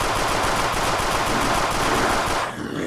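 A fully automatic WW2 gun in an Unturned mod fires one long unbroken burst, loud and rapid. The burst cuts off near the end, leaving a brief quieter tail.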